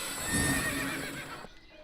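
A single horse neigh from a character shifting into horse form in the video game MistWorld, a short, close whinny that fades out cleanly in under two seconds.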